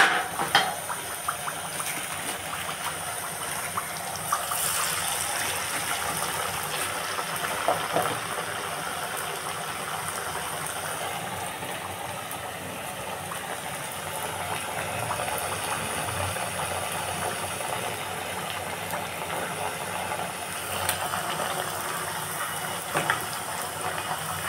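Papuchekkalu pieces sizzling in hot oil, a steady close bubbling hiss with crackly spits that runs continuously without speech for the whole stretch.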